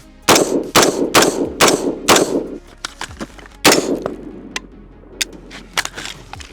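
Rifle shots fired at a 100-yard target with 55 grain ammunition, several loud sharp cracks in quick irregular succession, each with a short ringing tail, then a few fainter isolated pops outdoors.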